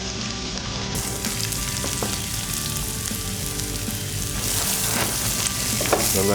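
Onions and cumin seeds sizzle steadily in hot oil in a pan, a dense, continuous frying hiss with occasional soft stirring scrapes, close and fairly loud with no voices.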